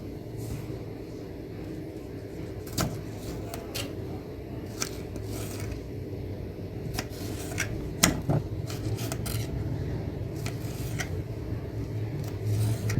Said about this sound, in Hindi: एक टमाटर के हम 4 पीस कर लेंगे।